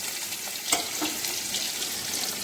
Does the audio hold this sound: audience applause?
no